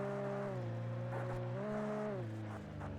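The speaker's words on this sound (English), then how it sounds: "Another truck." A truck in Alan Wake Remastered drives past with a steady droning engine hum that shifts pitch as it moves, heard on its own at a moderate, even level.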